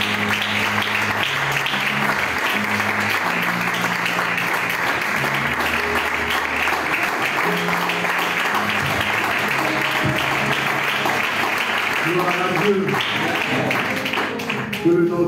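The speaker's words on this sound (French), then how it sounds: "Recevons l'orateur avec des acclamations." An audience at a gathering welcomes a speaker with sustained, loud, dense applause that keeps a steady level throughout, with talk over it.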